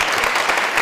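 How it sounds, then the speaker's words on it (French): Applause from a theatre audience welcoming two guests onstage, a dense steady patter of clapping filling the whole moment with no voices over it. "Applaudissements pour nos deux invités."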